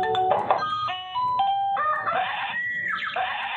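An Avantek mini waterproof wireless doorbell plays an electronic chime melody of stepped, bright tones. It runs continuously and close up for a few seconds with no one talking.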